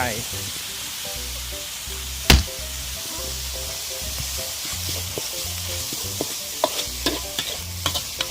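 Beans and chili are stir-fried for pad kaprao over high heat, giving a loud continuous sizzle with rhythmic scraping and tapping of a spatula against the pan, growing busier toward the end.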